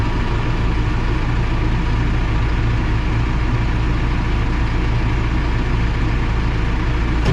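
A diesel tractor engine idles with a steady, dense low rumble that stays constant and loud throughout, with no voices.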